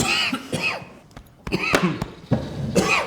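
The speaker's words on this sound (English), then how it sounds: "Okay, I'm on the coughing break now." Several harsh coughs after smoking cannabis, in quick bursts, close by, separated by short pauses and raspy throat sounds.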